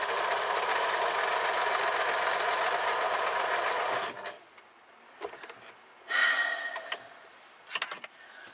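A sewing machine runs a quarter-inch patchwork seam with a steady, loud, continuous whir for about four seconds, then stops; a few brief rustles and clunks follow.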